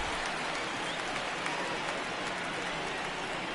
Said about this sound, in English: And listen to this crowd at the stadium